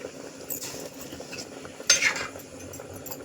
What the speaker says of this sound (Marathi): कांदा परतून झाल्यावर तुम्हाला चिकनची भाजी पण फोडणीला टाकलेली आहे